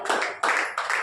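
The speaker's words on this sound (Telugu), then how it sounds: "కొట్టడి చప్పట్లకు ఒక్కసారి." Clapping from an audience at a religious sermon or gathering, three short bursts of handclaps close together, fairly loud and with no talking over them.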